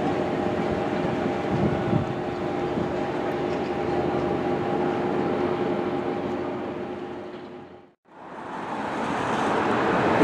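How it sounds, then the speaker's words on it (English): Steady rumble and rushing roar of a moving train on the Trans-Siberian Railway, continuous and loud, briefly dropping out before resuming. "the final station of the longest railway line in the world, Trans-Siberian Railroad"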